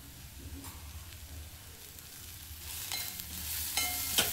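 Turmeric sizzles and fries in a pan over a medium gas flame while being stirred, a steady crackle that grows louder toward the end, with occasional scraping clicks.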